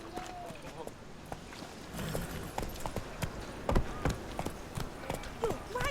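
In The Witcher 3, the horse gallops with rapid, irregular hoof clip-clops over outdoor ambience, fairly faint, while a voice talks intermittently throughout.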